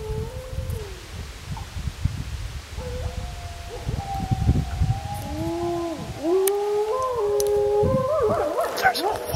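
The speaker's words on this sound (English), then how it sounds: "Listen to the wolf." A wolf howling near a lake in Algonquin Park in autumn, long rising and falling howls carrying over the water, with low handling noise and rustle underneath.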